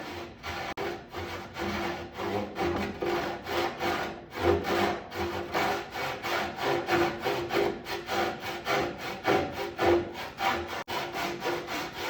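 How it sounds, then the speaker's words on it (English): Steady back-and-forth strokes of a Japanese pull saw cutting wood while shaping a boat's keelson, a close, rhythmic rasping that runs continuously with brief pauses. "I'm not sure if this Japanese pull saw is going to be my best tool or just my regular saw"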